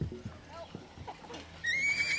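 A horse on a farm whinnies in a long, rising call that fills the second half, after earlier nearby clip-clopping hoof steps and faint handling noises.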